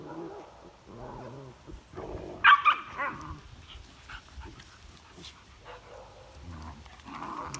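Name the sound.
dog playing with puppies, screeching and barking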